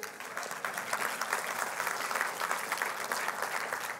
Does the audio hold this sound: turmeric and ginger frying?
no